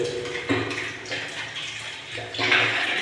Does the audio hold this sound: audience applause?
no